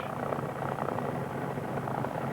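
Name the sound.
light aircraft piston engine running after start-up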